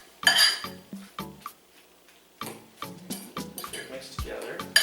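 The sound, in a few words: mixing guacamole with a fork in a bowl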